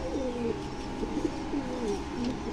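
Allahabadi kaldama pigeons coo in a pigeon loft, soft repeated low warbling calls over a quiet background hum.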